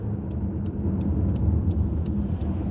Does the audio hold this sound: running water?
no